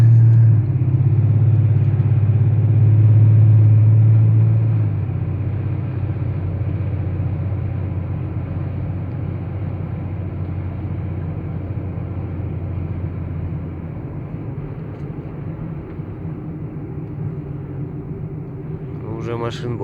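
Cars drive along a partly paved road in the town of Shopokov, Kyrgyzstan, in winter, producing a loud continuous low rumble of passing traffic that swells early and then settles into a steady drone, with a faint sound near the end.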